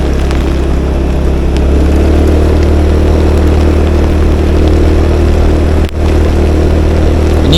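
A vehicle creeps slowly along a foggy mountain road on Merapi near Selo, Boyolali, its engine giving a steady, close, low rumble that holds unbroken throughout, with no talking.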